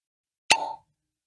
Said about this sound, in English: let's just pause for a second to listen to the cork pop